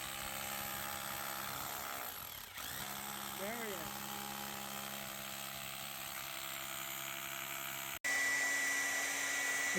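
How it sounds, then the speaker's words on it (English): A dryer runs steadily while drying freshly plastered wall texture, a constant loud whirring drone with a short pitch wobble early and a brief cut before it resumes. "He's drying the texture right now."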